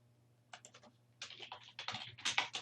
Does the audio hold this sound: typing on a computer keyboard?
yes